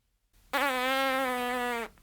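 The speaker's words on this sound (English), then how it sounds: "a long tongue push with pointed lips" A player doing circular-breathing practice pushes the tongue through pointed lips, making a sustained buzzing, fart-like tone that starts abruptly, holds steady for about a second and a half, then cuts off.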